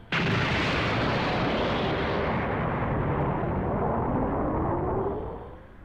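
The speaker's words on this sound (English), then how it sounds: "Beerus wakes up from the early explosion of his alarm clock." A huge explosion from an alarm clock in a Dragon Ball Super anime scene, a loud sustained roaring blast that rumbles on for several seconds before fading out.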